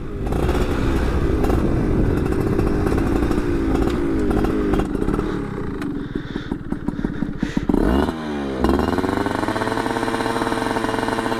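Yamaha F1ZR two-stroke motorcycle from 2000 fitted with a Chan racing muffler, revving loudly and continuously with a raspy buzzing exhaust, rising and falling through several throttle pulls near the microphone.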